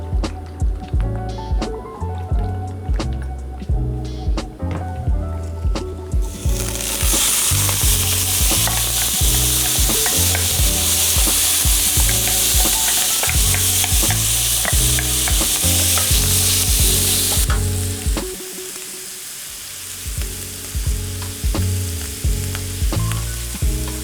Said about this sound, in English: I'm ready to start cooking my pork. Hot pan here. I've got some canola oil.